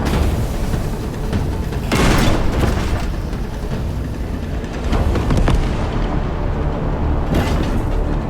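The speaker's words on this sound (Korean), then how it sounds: "대포로 공략하는 건가 이건?" Heavy booming cannon blasts in the video game Crimson Desert, several of them, roll out loud and close in a dense, rumbling game soundscape with no talking.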